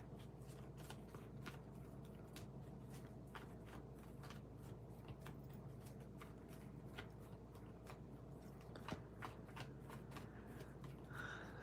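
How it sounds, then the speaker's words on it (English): Tarot cards are shuffled by hand during a live tarot reading, producing faint, close, repeated papery flicks and riffles over a steady low background hum. "I just need to shuffle the cards."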